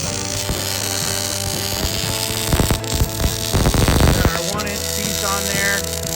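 A beveled plate joint is being welded into a preheated thin piece, a loud, steady arc crackle and hiss over a constant electrical hum, with bursts of sharper sputtering midway.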